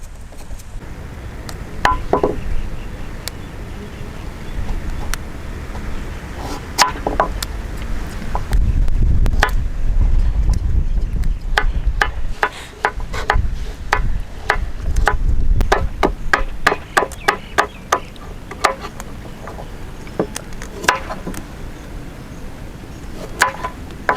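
A knife chops carrot, tomato, beetroot and mint on a board in an outdoor village kitchen making rainbow parotta, with irregular clusters of sharp taps, some quick runs, over a steady low rumble of background noise.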